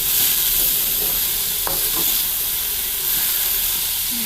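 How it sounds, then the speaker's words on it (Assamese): Chopped bottle gourd (jatilao) fries in hot ghee in a pan, giving a loud, steady sizzle and hiss that holds evenly the whole time with no talking. "জাতিলাওখিনি অকণমান ভাজিব লাগিব।"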